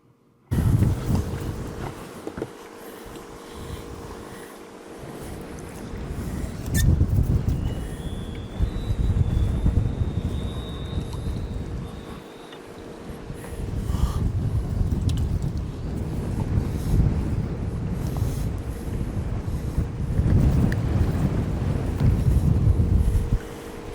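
Steady gusting wind roars across the microphone outdoors on the Big O lake while crappie fishing, with low rumbling buffeting that swells and eases throughout.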